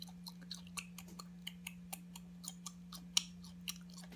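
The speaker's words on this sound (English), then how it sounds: "I'm still chewing." Someone chews gum-like soursop fruit close to the mic, with soft, rhythmic wet clicks and smacks at about two per second over a low steady hum.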